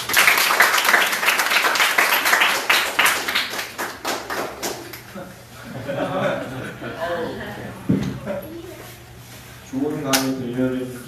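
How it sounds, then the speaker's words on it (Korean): Audience applause at the close of a lecture by a professor during a peace walk event near the civilian control line, a dense burst of many hands clapping that gradually thins and fades into scattered claps and brief speech. "큰 박수 부탁드립니다"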